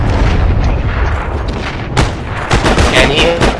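Gunfire in the World War II shooter Heroes & Generals, with sharp shots standing out over a dense, noisy battle background, heavier at the start and as several cracks near the end.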